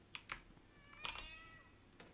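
A cat meows in the FNAF Into The Pit horror game: two quick short meows, then a longer drawn-out one, each clear and close over a quiet background with faint clicking.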